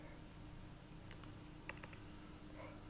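A computer keyboard is used to type an extension number into the search bar of the Mitel MiCollab desktop client. A few faint, scattered keystroke clicks sit over a steady low hum.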